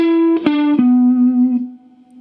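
An electric guitar with effects plays the second solo phrase of a song: a few sustained bent and slid notes ringing out alone, close and moderately loud, decaying over about two seconds.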